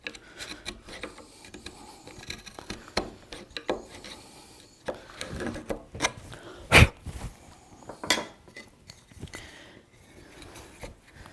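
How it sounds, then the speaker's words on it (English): A mortise chisel scrapes and pares waste wood out of a mortise, with irregular scraping and rubbing strokes and a few sharper knocks, close and fairly quiet, no talking. "I'm going to go ahead and try to get down inside there with my mortise chisel"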